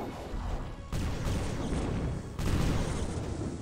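Bombing in a real-time strategy game match: heavy, rumbling explosions land in two or three loud waves, one after another, with a dense crackle of battle noise between them and no talk.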